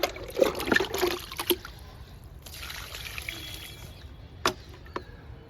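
Liquid fertilizer poured onto vegetable plants, cluster beans and flat beans, in a home garden, giving short uneven trickles and splashes in bursts, fairly close, with quieter gaps between and no talk.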